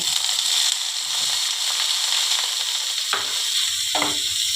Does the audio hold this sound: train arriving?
no